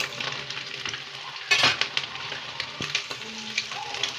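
A beans palya stir-fry with egg sizzles softly in a pan, with a sharp scrape or clatter of a spoon partway through and light stirring sounds afterward, no talk.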